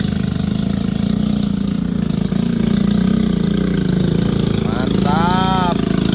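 A heavy-duty off-road motorcycle built for hauling timber and cargo runs loudly and continuously up close, its engine droning with a steady throb while a voice speaks briefly over it near the end.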